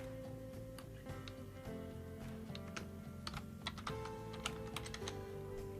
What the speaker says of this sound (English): So I can type in some data.